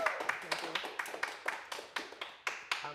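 A small studio audience claps in sparse, uneven bursts at a quiz show broadcast, fairly faint and close, with a voice talking briefly alongside.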